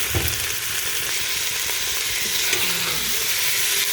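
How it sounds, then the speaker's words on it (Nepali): Meat hits a hot pan of onions fried until red, producing a loud, constant sizzle and crackle close up, with occasional stirring scrapes throughout. "त्यसमा अघि रेडी पारेको मासु हाल्दैछु।"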